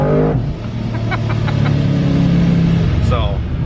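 LS-swapped Mazda engine dropping through gears in manual mode, a loud steady engine drone with pitch shifts and a short rev at the downshift, heard close with talking over it.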